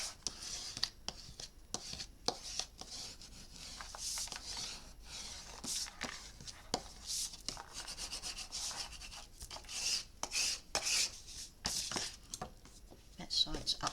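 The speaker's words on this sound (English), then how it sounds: "Let's give this all a really good burnishing." Paper in an art memory book is burnished by hand, with scratchy rubbing strokes in irregular bursts, close and fairly quiet.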